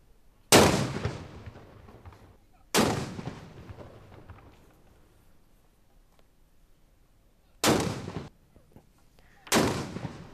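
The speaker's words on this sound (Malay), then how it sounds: "Ketibaan bulan Syawal disemarakkan dengan 12 das tembakan meriam di Taman Haji Sermuda Omar Ali Saifuddin di Ibu Negara petang kemarin." Ceremonial cannon salute marking Syawal in a park in Brunei's capital, fired by Royal Brunei Armed Forces military police: four heavy booms spaced a few seconds apart, each with a long rumbling echo fading into quiet.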